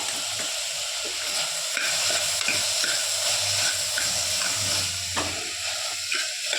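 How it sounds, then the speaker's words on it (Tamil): Ginger garlic paste sizzles and spits as it fries in a pan for wheat rava khichdi, a steady close hiss with the scrape of stirring running throughout and no talking. "கொஞ்சம் இஞ்சி பூண்டு பேஸ்ட்டும் போட்டுக்கிறேங்க"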